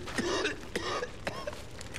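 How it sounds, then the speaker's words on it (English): Short, rough coughs and throat-clearing from a character in the video game I Am Alive, a few separate bursts at moderate level over a faint background. "Where's that fucking coughing coming from?"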